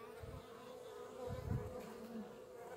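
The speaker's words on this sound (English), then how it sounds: "there's lots of bees crawling on the edges" Honeybees buzz faintly during a hive inspection, a soft continuous hum with a few closer wingbeats swelling briefly near the middle, alone with no talking.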